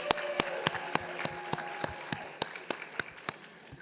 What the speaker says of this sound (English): please give your families who supported you throughout this year a round of applause as well